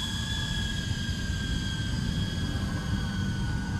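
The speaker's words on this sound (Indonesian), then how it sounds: "Untuk si drone-nya sendiri ini lumayan gak terlalu berisik ya" A small home-built UFO-style drone hovers with a steady whirring drone at close range, with a constant high-pitched propeller whine over a low rumble.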